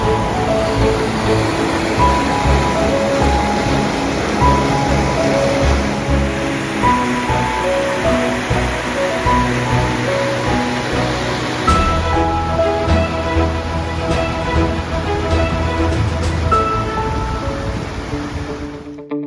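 Water pours steadily at the South River Cascades waterfall, a loud, continuous broadband rush heard up close without a break, with soft musical tones layered over it.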